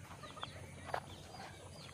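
Free-range desi village chickens cluck faintly and briefly at a distance over low outdoor background noise.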